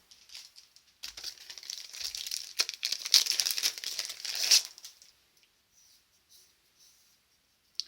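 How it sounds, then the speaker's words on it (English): Stampin' Up! Tear & Tape adhesive, a quarter inch wide, crinkles and tears close by for about four seconds during album making, then falls nearly silent with a few faint taps. "now I'm going to use our tear and tape"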